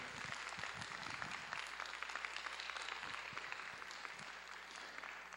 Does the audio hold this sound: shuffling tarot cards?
no